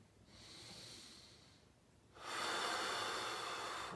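Nasal breathing during a wall posture exercise: a soft, airy inhale followed by a louder, fuller exhale through the nose, close up with no talk.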